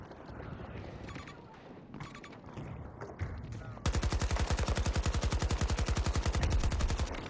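An AK-24 rifle fires in Battlefield 2042, with scattered shots and battle noise at first, then a long loud sustained fully automatic burst of evenly spaced, close rounds.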